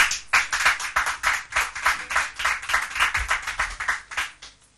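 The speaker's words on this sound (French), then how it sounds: "Mais sous vos applaudissements." Audience applause greets a contestant on a French TV quiz show, a dense burst of many hands clapping steadily and close, holding for several seconds before tapering off at the end.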